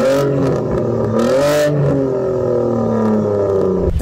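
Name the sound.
Saab 9-3 2.8 V6 turbocharged engine revving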